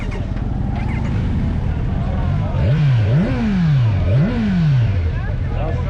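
A Harley-Davidson Road Glide motorcycle engine idles with a steady low rumble, then is revved in three rising and falling blips, loud and close, while a voice talks over it.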